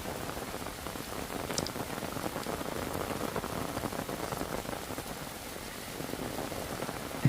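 Steady rain falls on a farm field where beans are planted, an even, dense patter of drops close by that continues without a break, with no voices.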